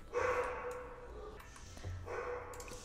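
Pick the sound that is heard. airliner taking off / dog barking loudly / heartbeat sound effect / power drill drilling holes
dog barking loudly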